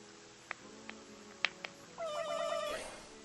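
A few soft electronic blips, then a drawn-out game-style cat meow rises and falls near the end, clear and synthetic.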